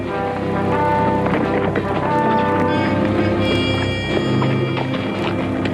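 Hooves pound in a fast, dense clatter as several horses gallop close by, with jingling tack and a faint voice mixed in.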